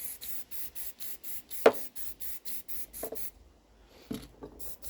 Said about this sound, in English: So we'll just give these rust patches a little bit of white primer, just to protect them